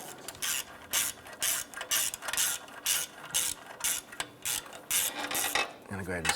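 A ratchet snugs down the bolts joining the down pipe to the exhaust manifold of a 2005-2010 Chrysler 300, giving a quick run of sharp, close clicking strokes with short pauses between bursts.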